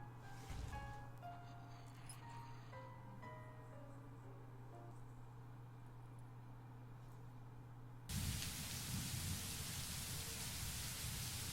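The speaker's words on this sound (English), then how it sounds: "And it's raining." Steady rain in the video game The Letter, a soft hiss lying under background music with tones and a low drone, then swelling into a louder, denser downpour for the last few seconds.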